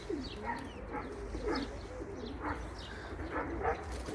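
Pigeons coo in repeated low, rounded calls, with faint higher bird chirps and a distant dog bark on an outdoor loft roof as the birds circle overhead; steady background hum, no speech.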